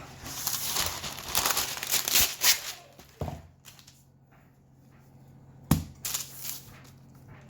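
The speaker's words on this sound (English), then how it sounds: "Now all we're gonna do is put it on some parchment." Parchment paper crinkling and rustling as bread dough is set onto it during home bread baking, a dense crackling burst at first, then quieter, with a sharp crinkle near the end.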